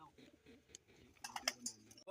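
A pigeon cooing close by in a loft: soft, low throaty coos at the start, followed by a few brief flutters and sharper calls, quiet overall.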